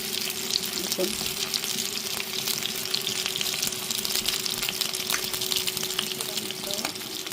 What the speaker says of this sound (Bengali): তেল ফুটে আছে বোয়াল মাছ একটু বেশি তেল থাকে